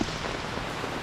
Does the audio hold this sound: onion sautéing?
no